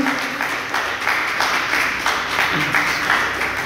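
Congregation at a Spanish-language church service clapping together as an offering of applause, a dense steady wash of many hands with rhythmic pulses, fairly loud and close.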